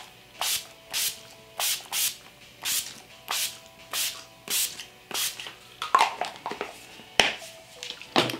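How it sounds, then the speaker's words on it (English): Wet n Wild makeup setting spray is pumped from a bottle in about a dozen short, close mist bursts, each a brief airy hiss in a steady, slightly uneven rhythm. "I put my Wet n Wild setting spray in that, but the pump doesn't work really good on that bottle"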